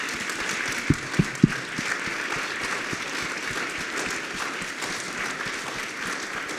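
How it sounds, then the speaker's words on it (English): A crowd at a security forum claps steadily, with a few sharp, close individual claps near the start standing out from the wash of applause. "let's give them a big round of applause, actually"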